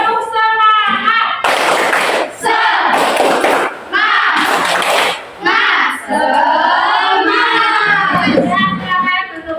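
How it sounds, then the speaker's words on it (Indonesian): A classroom of students stands and performs the 'tepuk semangat' clapping chant, loud bursts of rhythmic group clapping alternating with children shouting the chant lines together in chorus. "Kita lakukan tepuk semangat dulu."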